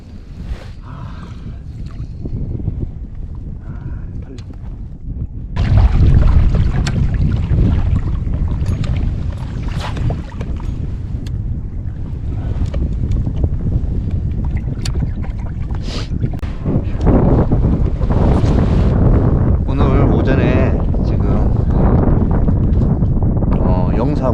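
Strong wind buffets a small bass-fishing boat on open water, a steady roar of gusts and microphone wind noise that swells louder partway through, with light water movement underneath and no clear talk.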